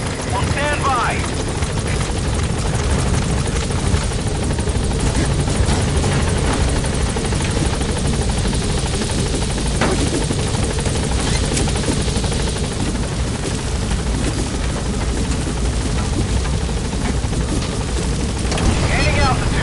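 A military helicopter in the video game Metal Gear lifts off from a landing zone, its rotor and engine roaring loud and constant throughout, with a voice talking briefly under the noise.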